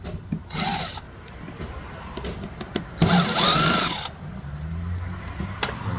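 A power tool driving out Torx screws from the grille of a 2021 GMC Denali, with short bursts of whirring and rasping close by, separated by clicks and brief pauses.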